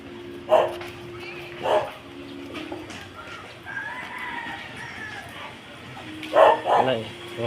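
Dogs bark in a few separate bursts along a quiet alley early in the morning, with roosters crowing in the background and people talking between the barks.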